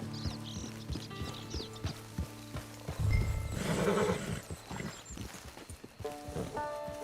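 In Red Dead Redemption 2, a video game, a horse gives a loud neigh and whinny amid hoof clip-clops and clinking tack, set against repeating tonal game music, fairly close.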